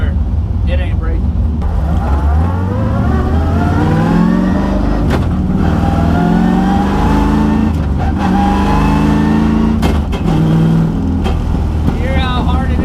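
BMW E36 fitted with a dog box transmission, engine revving up and dropping through repeated clutch shifts, loud and close with a steady drone of engine noise throughout.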